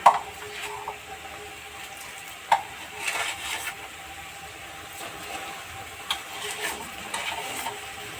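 Sugarcane jaggery goes into a pot of boiled tomatoes for a beetroot-tomato chutney, giving a few soft thumps followed by quiet scraping and stirring, faint and close, with no voices.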